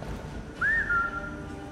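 A person whistles a single rising-then-falling call followed by a short steady note, loud and close within a Skyrim Special Edition game scene, with low background hum and no talking.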